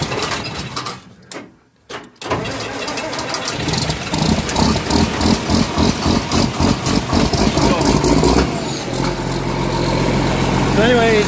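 Truck engine cranked cold, a brief cranking pause and then catching into a loud, rough, pulsing idle that settles into a steady throb, close by, with someone talking over it.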